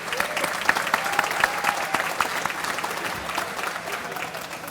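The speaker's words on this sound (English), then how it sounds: "give a little thanks and a round of applause to our caterers and the food preparers for a great job for the meal" A banquet crowd at a polo hall of fame induction dinner gives a sustained round of applause, moderately loud and steady, with scattered individual claps and faint voices mixed into the background.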